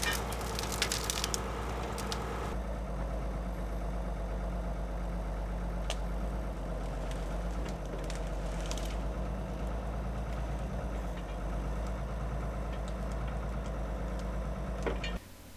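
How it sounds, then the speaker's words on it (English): A tractor crane's engine drones steadily as it gathers felled trunks and branches in a forest, a continuous low mechanical rumble with occasional clanks and knocks, moderately close and with no voices. "uses his tractor crane to gather the trunks and branches"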